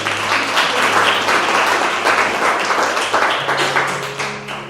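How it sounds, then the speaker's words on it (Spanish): A church congregation applauds during a sermon with steady, full clapping that sounds moderately close. It stays dense for several seconds, a low hum runs beneath it, and the clapping thins slightly toward the end. "Dale un aplauso a Dios y su palabra"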